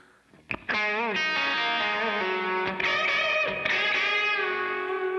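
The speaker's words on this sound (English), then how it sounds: "there's a lead here where I'm automating the reverb into it" A distorted electric guitar plays a sustained lead line with bends, the tone growing washier and more spacious as reverb builds.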